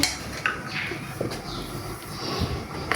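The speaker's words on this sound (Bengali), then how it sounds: "ভালো করে ডালগুলোকে আমি মেখে নেব।" Lentil paste mixed by hand with chopped coriander leaves and green chilies for lentil fritters: soft squishy kneading with light scrapes and small clinks against a bowl, close and continuous, no talking.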